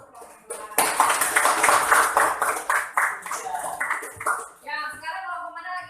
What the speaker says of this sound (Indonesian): Sekarang kita beri tepuk tangan dulu untuk kelompok dua.